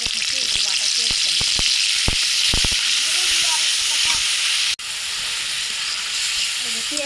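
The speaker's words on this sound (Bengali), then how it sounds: "এই যে পেঁয়াজটা আমরা একটু ভাজা ভাজা করে নেব" Onion paste sizzling and frying steadily in hot white oil in a kadai, a continuous close hiss with a few stirring clinks, no talk over it.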